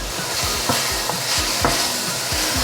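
Tomatoes seasoned with a pinch of salt are stirred in a hot pan, giving a dense, even sizzle with a regular rhythm of soft spatula scrapes and taps, close up and with nobody speaking.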